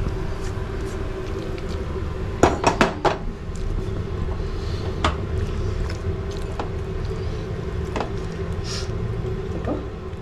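Prawn pickle is moved into a container, with a quick burst of clinking dishes and utensils in the middle, then scattered lighter taps over a steady low background hum.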